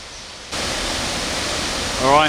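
Tad Champee waterfall in the Four Sisters area of Laos's Bolaven Plateau, a dense, steady rushing roar that swells in after a brief quieter moment and holds loud to the end.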